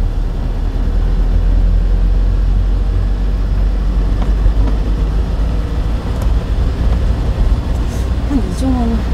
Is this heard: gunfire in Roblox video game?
no